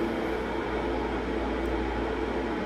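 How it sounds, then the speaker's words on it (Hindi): An electric kettle heats water in a kitchen, giving a steady, even rushing hiss and rumble with no change in level and no voices. "इलेक्ट्रिक कैटल में पानी गर्म हो रहा"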